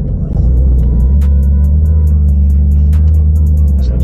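A Ferrari 458 pulls away gently on the Elvington race track, with a loud, steady, deep engine drone heard from inside the cabin that stays even rather than rising into a hard rev, alongside faint clicks.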